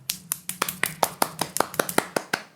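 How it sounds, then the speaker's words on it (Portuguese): A round of applause for a guest on a pop culture podcast, heard as a single person's distinct, evenly spaced hand claps, about a dozen sharp close strikes in a quick steady rhythm. "Então, por favor, salva de palmas para o Eliseu."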